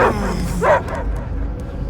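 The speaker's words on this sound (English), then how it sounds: "I hear only barking." Dogs bark and yip in the Guardians of the Galaxy video game, a short burst of yelping near the start followed by low background rumble, with no speech.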